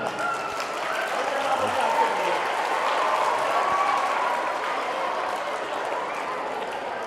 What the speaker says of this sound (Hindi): तालियां, जोर से तालियां।